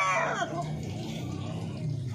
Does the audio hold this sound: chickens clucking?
yes